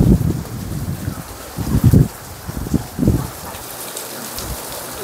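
Rain pattering steadily on a surface at a temple on Maisan mountain in Jinan, Korea, with a few louder low thumps and rustles near the microphone.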